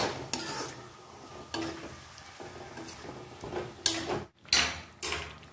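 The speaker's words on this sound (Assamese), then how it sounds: "এনেকৈ অকমান সময় ভাজিব লাগিব" A chicken curry frying on a low flame, with an uneven sizzle and repeated clinks and scrapes of a spoon stirring against the pan, and a couple of louder knocks near the end.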